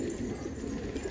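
A pet pigeon cooing close by, a soft low murmuring coo that pulses gently for about a second.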